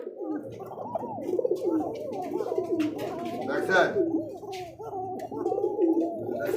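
Kaka pigeons coo close by in a continuous, throaty, rolling stream, with someone talking over them.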